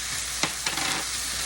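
Minced garlic hits a hot pan with softened onions and peppers, giving a steady close sizzle with a few brief stirring scrapes and no talk.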